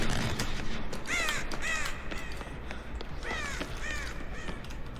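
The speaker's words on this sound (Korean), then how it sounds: "까마귀 까마귀 날았어" Crows caw in Dead by Daylight, several harsh, rasping calls arriving in two clusters over a constant, noisy ambient background, fairly close and loud with no voices.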